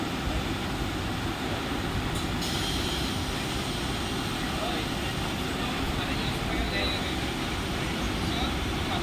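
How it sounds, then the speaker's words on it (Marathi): A fast local train rushes past a station platform at Mumbai CSMT with a steady, loud roar of wheels on rails, continuous for several seconds, with faint squealing above. "एक जलद गाडी जाणार आहे."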